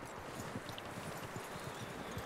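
Horse hooves clip-clop in a steady walking rhythm in Red Dead Redemption 2, a run of close, fairly soft rapid thuds over a faint ambient background, with no speech.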